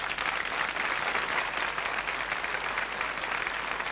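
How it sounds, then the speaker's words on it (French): A TV studio audience applauds the Kelly Family, steady dense clapping with no voices, evenly sustained from start to finish. "On applaudit encore la famille Kelly."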